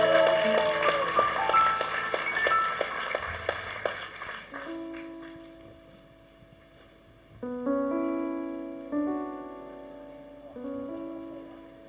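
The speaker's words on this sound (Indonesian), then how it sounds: "Kita kasih tepuk tangan sekali lagi bagi anak-anak kita ini." A church congregation claps for children at a G2CC anniversary service. A dense burst of applause fills the first few seconds over keyboard music, then fades and the music carries on alone.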